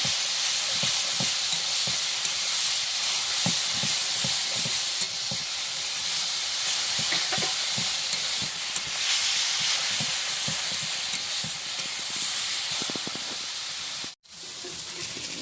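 Khesari (grass pea) greens fry and sizzle in a pan with a steady loud hiss, broken by frequent scraping stirs, and a brief pause near the end; no talking.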